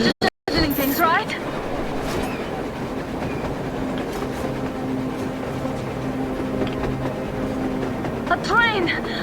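A train runs on the snowy surface in the game Metro Exodus, a loud, sustained rumble with rhythmic rolling clatter and a rising, whistling tone, heard close over constant wind.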